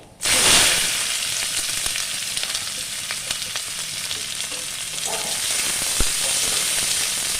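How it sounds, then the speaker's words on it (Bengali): Onion and green chilli hit hot oil already tempered with dried chilli and nigella seeds for a small-fish chorchori, bursting into a sharp, loud sizzle that settles into a steady, close frying hiss. "ফোড়ংটা একটু লাল হয়ে গেলে আমি পেঁয়াজটা ভেজে নেব"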